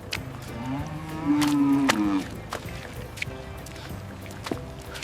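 A cow in a village lets out one loud, drawn-out moo near the middle, set against scattered knocks and faint background noise, with no talk over it.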